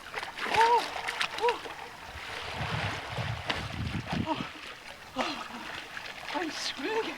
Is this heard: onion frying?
no